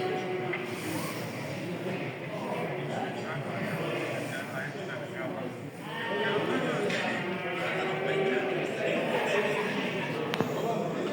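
Sheep for sacrifice bleat at a busy holiday livestock market. Bleats come through a dense crowd murmur and someone talking close by.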